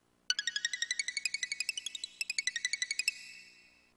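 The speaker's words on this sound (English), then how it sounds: "A bell to ring." A bell chimes in the children's puzzle game I Spy Junior, a rapid run of bright, clear strikes, about two dozen in quick succession with a short break midway, then the last tone fades out alone.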